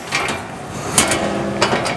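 A ratchet tightens bolts on a Rock Hard 4x4 River Rack roof rack for a Jeep JL, fixing the sidewall to the back wall, producing a few short metallic clicking bursts up close.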